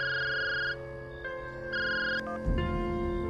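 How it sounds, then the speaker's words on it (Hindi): A phone rings with a bright electronic tone in short bursts, fairly close, with no talking. "मंजू का फोन, वो भी इतनी रात का।"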